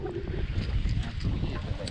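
Wind buffets a fishing boat on the river at Barcelos in the Amazon. The gusting rush is continuous and roaring, close to the microphone, with low rumbling noise throughout.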